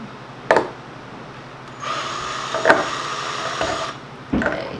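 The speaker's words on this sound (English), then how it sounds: "drilling that screw down into the hole" A power drill whirs for about two seconds as it drives into wood, bracketed by sharp knocks and clunks before and after.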